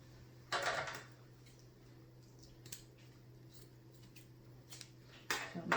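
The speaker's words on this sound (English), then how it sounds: "So let me get my scissors and trim those up." Scissors trimming at close range: a couple of crisp, louder snips at the start and end, with a few faint small clicks between, over a quiet low hum.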